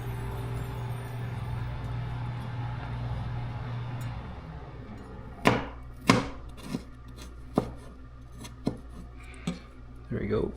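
A knife chops vegetables into julienne strips on a board. It starts with a low hum and murmuring, then gives about six sharp, separate chops at an uneven pace that carry on into a quicker tap at the end.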